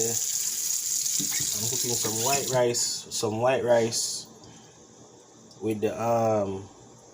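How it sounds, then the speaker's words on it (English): White rice being washed under a running kitchen sink tap, a steady broadband hiss of flowing water throughout, with a person talking over it in several bursts. "So I'm about to wash my rice"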